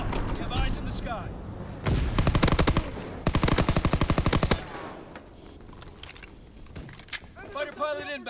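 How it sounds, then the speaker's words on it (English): A fighter plane strafes with rapid gunfire in Call of Duty: WWII. Two loud, close bursts of fast machine-gun fire, each lasting a second or more, come over game noise, and a radio-style voice talks near the end. "Fighter pilot inbound, strafing the target."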